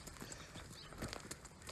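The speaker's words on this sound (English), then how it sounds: "Looks like we're being joined over here by a couple of the neighbors' horses." A couple of neighbours' horses walk nearby on a pasture, their hooves clip-clopping faintly and irregularly under quiet outdoor ambience.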